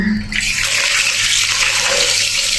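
Water gushes steadily from a tap in a loud, continuous rush over freshly cut fish being washed, close up, with no voices.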